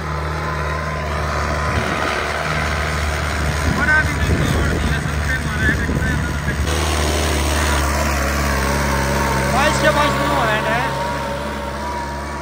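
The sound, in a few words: New Holland 5630 tractor engine running without load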